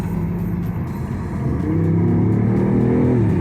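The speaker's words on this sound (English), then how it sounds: "It's all hybrid, but it sounds like it's got a motor" Hybrid i8 car engine revving, a continuous close motor drone that swells into a louder, rising rev partway through and holds there.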